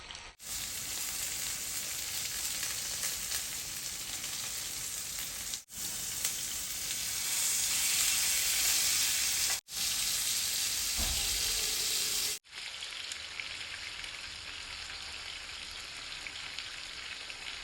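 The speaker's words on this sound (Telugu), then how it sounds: "ఇప్పుడు చూపించిన విధంగా చికెన్ డ్రమ్ స్టిక్స్ని 2 sides మంచిగా ఫ్రై చేసుకొని ఒక 15 minutes వరకు లో టు మీడియం ఫ్లేమ్లో ఉంచేసేయాలి" Marinated chicken drumsticks fry in a pan over low to medium flame, giving a steady, even sizzle with a few short breaks and faint stirring.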